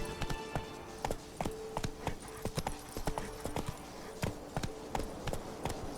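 Roach the horse galloping in The Witcher 3, a fast, close, rhythmic clatter of hooves on hard ground, loud and continuous, with a faint gear jingle.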